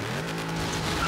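A Charger sliding sideways in Forza Horizon 3, its tires screeching in a steady squeal over a sustained engine drone for about a second.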